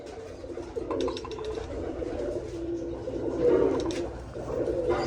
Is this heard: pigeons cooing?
yes